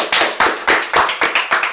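Crowd applause from an audience, a run of loud, fast broadband hand claps with rhythmic bursts roughly every few tenths of a second, close and dense throughout.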